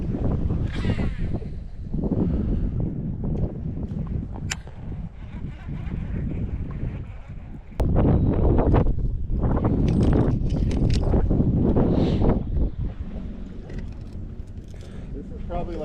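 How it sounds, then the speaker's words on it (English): Strong wind of roughly 17 mph buffets a microphone on a lake, a loud continuous rumble that swells and gusts, with people talking beneath it. "This is probably like a good, 17 mile an hour wind here."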